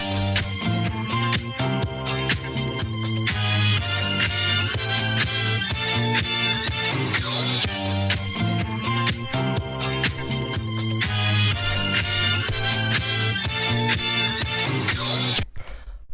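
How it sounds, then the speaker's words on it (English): A chopped disco sample loops through a tech house groove, with dense stuttering cuts over a thumping, steady beat that plays loud and continuous without any voice. "The first sound we have here is the sample chop, which sounds like this."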